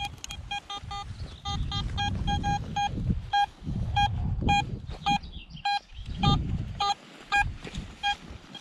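Vista X metal detector fitted with a 14-inch coil, swept over a rubbish dump, gives repeated short electronic beeps and tones in quick irregular bursts over low rustling and scraping from the coil and ground.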